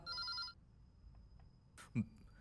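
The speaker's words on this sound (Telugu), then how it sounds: "రే మావా, నీకే ఫోన్" A telephone bell rings in one short trilling burst at the start, fairly close and clear, then stops and leaves a quiet room with a faint thump near the end.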